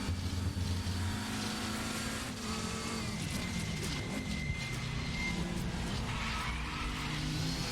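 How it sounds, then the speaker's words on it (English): Audi TT RS race cars cornering on the Lausitzring DTM short course in a VLN round, tires squealing and skidding over steady engine roar, a continuous loud wash of car noise without pauses. "You can hear those tires peeling as they're trying to take the corner."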